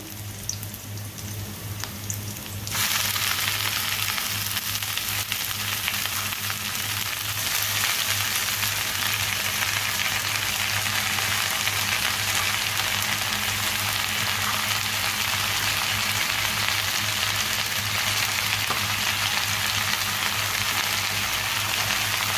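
Malabar spinach frying in a hot pan: after a quieter opening, a loud, dense hiss of sizzling jumps in and continues steadily to the end over a low hum.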